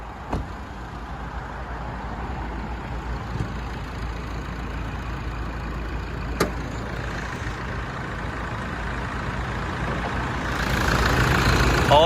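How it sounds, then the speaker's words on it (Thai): A 2013 Toyota Fortuner with a 3.0 diesel engine and automatic gearbox idling steadily just after starting, a low constant rumble heard fairly close, with a few sharp clicks and a rise in noise near the end. "สตาร์ทเครื่องด้วยเลยนะครับผม จะได้ฟังเสียงเครื่องนะครับ"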